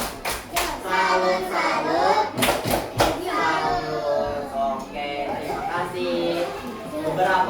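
A class performs a rhythmic salute clap, a few sharp patterned hand claps in quick groups, mixed with children's voices chattering and calling out loudly around them.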